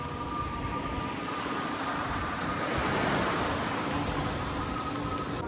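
Waves wash onto a beach in a steady, broad roar with some wind across the microphone. The surf swells slightly louder midway, and no one speaks.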